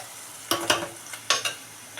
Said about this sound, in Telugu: ఉల్లిపాయలు వేగినాయి ఫ్రెండ్స్, టమాటా ముక్కలు వేసేస్తున్నాం.